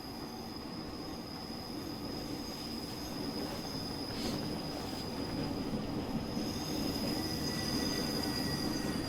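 A Ge 4/4 II locomotive runs in a Swiss train simulator game, giving a steady rumbling rail roar with high thin wheel squeal lines, faint and unbroken throughout.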